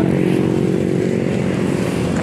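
A motorcycle engine runs steadily and loudly close by, a continuous buzzing drone with a slightly rough, pulsing idle character throughout, no voices over it.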